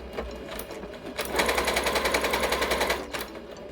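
A Yamata digital sewing machine stitching a step zigzag, a close, loud, even mechanical rattle that starts up, runs steadily for about two seconds and then stops, with lighter handling clicks around it.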